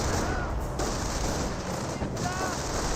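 Sustained gunfire rattles through a Company of Heroes 1 battle, a dense run of rapid shots with brief lulls, loud and close throughout.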